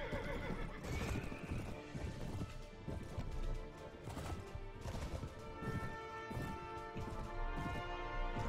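Horse neighs over galloping hooves in the medieval combat game Mount & Blade: Warband, set in a siege battle, with a loud whinny early on and steady pounding hoofbeats mixed with clashing battle noise throughout.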